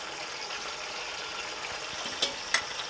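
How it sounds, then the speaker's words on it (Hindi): Chicken frying in a pan with tomatoes, green chillies and ginger garlic paste gives a soft, steady low sizzle, with two brief sharp clicks of stirring near the end. "और अब हम इसको थोड़ी देर के लिए भून लेंगे"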